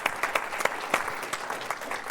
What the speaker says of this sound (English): I think we should get a round of applause for that one.